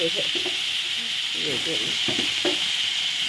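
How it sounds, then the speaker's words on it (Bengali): Eggplant pieces dropped into spice paste frying in a pan give a steady close sizzle with soft stirring scrapes throughout, and a few faint low-pitched voice-like sounds underneath. "আবার ওই একই হাতা দিয়েই আমি বেগুনগুলো দিয়ে দিচ্ছি"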